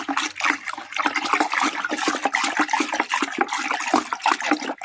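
A wooden stick stirs a homemade salt-based herbicide mixture in a container, giving a steady wet sloshing and swirling of liquid, close and fairly loud throughout.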